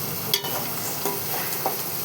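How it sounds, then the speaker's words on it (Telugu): A spoon scrapes and stirs ginger paste and turmeric in a pan over a low frying sizzle, with a few soft, separate scraping strokes close by. "అల్లం పేస్ట్, పసుపు వేసుకొని కలపాలి."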